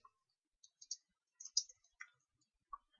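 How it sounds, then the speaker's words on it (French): Sparse, faint mouse clicks while editing a chart in Excel, arriving singly and in quick pairs with silence between them and no talking. "nous cliquons une première fois sur l'élément, une deuxième fois pour activer sa saisie"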